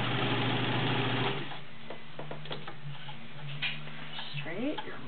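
A vintage White model 1665 heavy-duty 1.3 amp sewing machine runs with a steady close whir for about a second, then quiet clicks and soft handling sounds follow.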